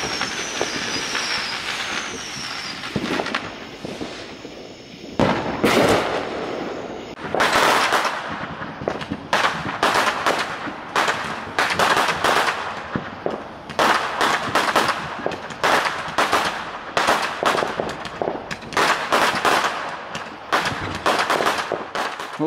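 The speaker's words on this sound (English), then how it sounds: "People in South Carolina love their fireworks." Fireworks and firecrackers going off all around in South Carolina, a rapid irregular barrage of sharp loud bangs and crackles, some close and some farther off, continuing almost nonstop.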